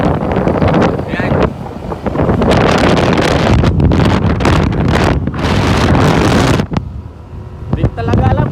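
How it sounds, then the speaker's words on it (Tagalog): Strong headwind buffeting the microphone outdoors, a loud continuous rumbling roar with gusty surges that drop away near the end, with voices talking underneath. "napakalakas na headwind na to"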